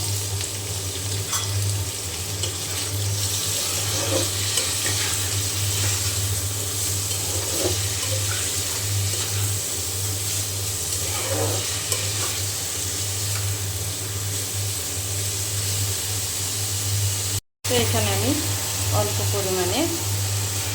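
Flat beans frying in a pan with onion and green chili, a steady sizzle over a loud constant low hum, with a short cut near the end followed by a few stirring and clinking sounds.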